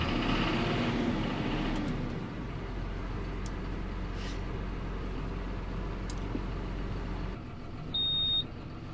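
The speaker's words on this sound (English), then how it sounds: "There's only one thing that I don't like about this tractor, and that's the horn. It sounds like it's from a child's toy." A farm tractor engine runs at a steady low drone, then a thin, toy-like horn beeps briefly near the end after the engine note drops away.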